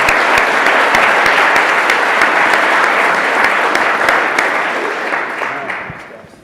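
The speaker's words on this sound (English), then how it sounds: "let's give a round of applause for our panelists" Dense, loud audience applause for the panelists at the close of a 2019 school challenge panel discussion, a continuous wash of many hands that tapers off near the end.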